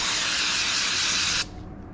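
Brake cleaner aerosol sprayed onto a shop towel while cleaning the water pump gasket area of a 2006 Yamaha YZF 450, a loud close steady hiss lasting about a second and a half before stopping abruptly.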